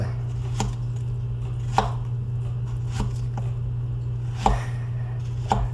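Plantain being cut into small pieces with a knife on a board, a handful of crisp, separated chops over a steady low hum, close and without talk.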